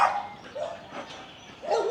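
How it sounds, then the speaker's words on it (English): Dogs bark on a morning walk through a residential neighbourhood in Quezon City, Philippines, with a few sharp barks and yips in quick bursts, fairly close and alone with no talk. "Dogs."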